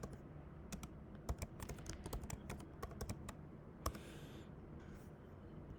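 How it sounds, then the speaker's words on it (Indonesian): Typing on a computer keyboard while entering exam questions, a quick irregular run of close, crisp key clicks with a few louder taps, faint and alone against a quiet room hiss. "Bapak dan Ibu bisa ketik seperti ini."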